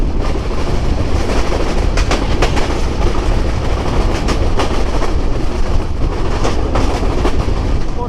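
The Sundarban Express, a luxury passenger train, runs on rails with a loud steady rumble and repeated rhythmic clickety-clack of wheels over rail joints, heard from close by without talk.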